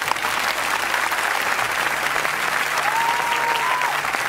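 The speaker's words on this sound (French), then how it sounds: "Je veux remercier de tous vos applaudissements" A dense, unbroken wash of audience applause fills a César awards ceremony hall, steady and fairly loud throughout, with a faint tonal whistle briefly rising above it.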